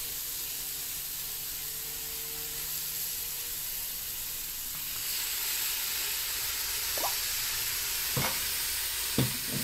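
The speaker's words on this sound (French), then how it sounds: "On va ajouter le vinaigre balsamique et on va laisser évaporer." Balsamic vinegar hits a hot pan for an alcohol-free boeuf bourguignon, a broad steady hissing sizzle that swells midway as it evaporates, with a few sharp utensil taps near the end, no voices.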